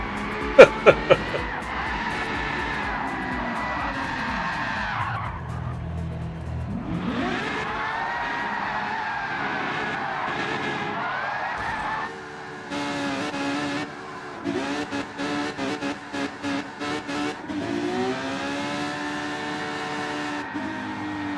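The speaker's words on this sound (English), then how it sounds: "Got some serious donuts going on here" Tires squeal and skid while a car spins donuts in the Gran Turismo 7 racing game, with engine tone rising and falling through the turns. The sound runs steadily and loud, broken by a few sharp knocks, with no talk over it.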